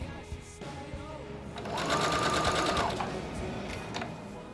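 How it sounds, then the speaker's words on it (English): A sewing machine stitches down a pressed fabric edge on a thrift-flip skirt, a quiet, fast whirring run in the middle of the clip after soft handling sounds, with light rustling afterward. "press down the edge, and then we're going to sew this down."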